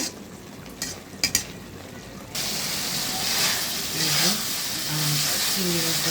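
A ginger-garlic paste with cumin powder, salt and coriander leaves is stirred in a pan after a few clinks. A continuous loud frying sizzle then starts up while someone speaks over it.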